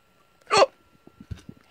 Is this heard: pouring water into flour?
no